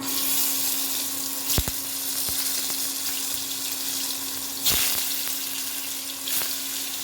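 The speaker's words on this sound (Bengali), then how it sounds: "পনিরগুলো একে একে ভেজে নেব" Cubes of paneer fry in white oil in a salted wok, a continuous close bubbling sizzle marked by a few sharp clicks and taps from a utensil as pieces are turned.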